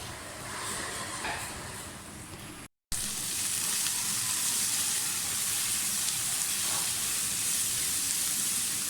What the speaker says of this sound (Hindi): दो 3 मिनट इनको बस फ्राई करना है और फिर इनको निकाल लेना है।